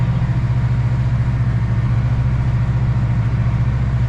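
The engine of a newish tractor on an organic dairy farm idles with a loud, steady low rumble, close by and unbroken, with no one speaking.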